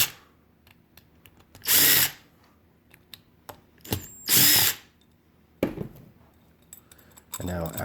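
A power driver unscrews the four screws of a Mikuni carburetor float bowl, with several loud whirring bursts separated by small metallic clicks and clatter of parts close by.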